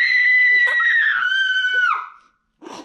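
Children scream loudly in a sustained, piercing shriek for about two seconds indoors, breaking off into silence before a brief burst of noise at the end.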